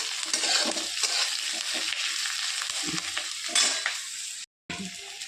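Onion frying in oil for an instant cooker chicken curry, with a continuous crackling sizzle and frequent stirring scrapes, close and moderately loud, broken by a brief dropout near the end.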